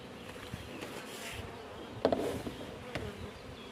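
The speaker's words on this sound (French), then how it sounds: "les abeilles devraient être autour de la petite cagette" Honeybees hum in a steady, close buzz around a queen cage, rising and falling slightly as they move around, with no talking.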